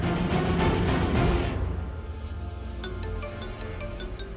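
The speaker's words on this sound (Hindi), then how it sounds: "अक्षय का फोन मेरे फोन पे" A mobile phone rings with an incoming call in a Hindi TV drama scene. After a loud musical burst, a soft electronic ring repeats in a steady pattern.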